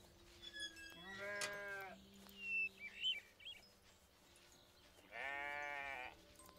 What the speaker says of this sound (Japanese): ヤギが逃げている